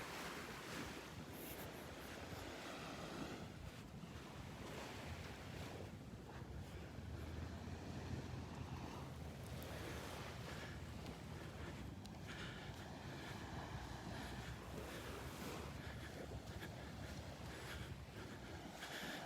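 Ocean surf rolls steadily onto a wide, expansive beach at Delnor-Wiggins, a continuous broadband wash of breaking waves mixed with gusty wind buffeting the microphone, with no voices.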